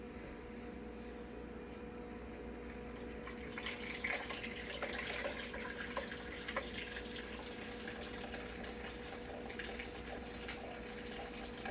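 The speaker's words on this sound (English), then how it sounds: "we're going to very carefully pour it into our container" Red cabbage liquid is poured carefully into a container. After a quiet start, a soft, continuous trickling stream swells in and runs steadily to the end.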